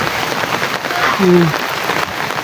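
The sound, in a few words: rain falling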